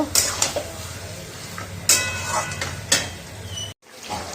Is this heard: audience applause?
no